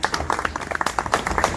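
A crowd applauds at a Swaminarayan religious discourse during a Shravan month festival, a dense, steady patter of many hands clapping for a short stretch.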